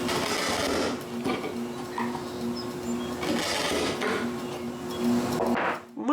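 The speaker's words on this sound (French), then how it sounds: "J'attends que la toupie s'arrête et après avoir placé sur l'autre ligne, je coupe jusqu'au trou." Wood router whining steadily while cutting a mortise in wood for a door frame, a sustained tonal hum with rough cutting noise that swells and eases before winding down at the end.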